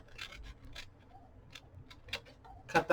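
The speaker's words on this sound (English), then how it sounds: "I'm going to actually cut up to that score line on the inside little notch that we did." Paper is cut up to a score line for a small craft file folder, giving a handful of short, dry snips and rustles close by, irregularly spaced and fairly soft, ending with a louder crisp cut.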